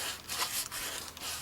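Sandpaper rubbed by hand over a gas injector part, a few quick close scratchy strokes in an uneven rhythm, with no talking over it.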